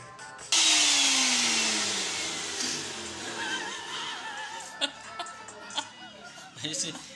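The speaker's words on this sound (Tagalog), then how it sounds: "Tapos blender na natin siya." A blender roars to life abruptly and runs loudly and steadily, its whine slowly easing, with a few clicks and knocks near the end.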